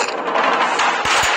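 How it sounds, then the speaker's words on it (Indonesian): Gunfire in a drama scene: a quick, loud burst of shots at close range, with no voices. "anak buah Suho yang datang membantunya itu tiba-tiba melepaskan tembakan"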